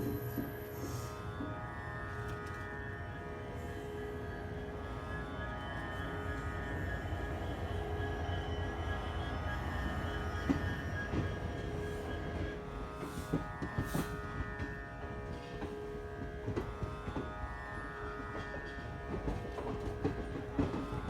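A train runs steadily, heard from inside a passenger carriage on an Indian route near Saharanpur, Roorkee and Haridwar, with a continuous low rumble, faint wheel squeals and a light clatter, and no talking.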